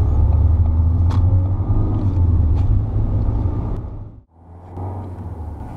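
A manual car pulls away from a hill start at a traffic light, its engine giving a steady low rumble as the clutch comes up with more gas, then briefly dipping near the end before the drone resumes.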